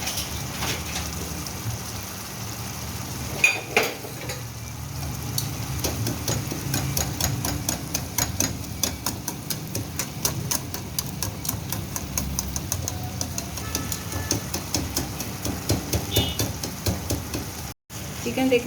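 Chicken frying in a pan for ghiya chicken gosht with bottle gourd, a continuous loud sizzle with crackling pops and repeated scraping stirs, rising in intensity toward the end.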